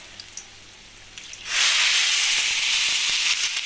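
Water is poured into a pot of hot rice and ghee (samna) while cooking at home, setting off a sudden loud, steady hiss that begins partway through and continues strongly to the end.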